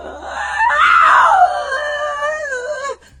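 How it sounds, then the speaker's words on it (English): A woman's loud, drawn-out scream with a wavering, screechy pitch, picked up by a home CCTV camera inside an empty house, continuous for about two seconds and then cutting off abruptly. "capturing voices of a woman screaming and screeching loudly."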